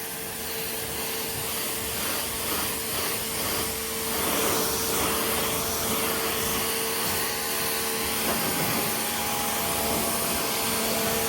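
Water from a hose nozzle sprays onto a car for a first rinse, making a continuous loud hissing rush that holds steady throughout with no talking.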